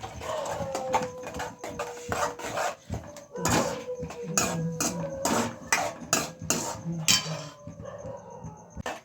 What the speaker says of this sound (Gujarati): હવે આપણે નાખશું ટમેટા। હલાવશું થોડીક વાર।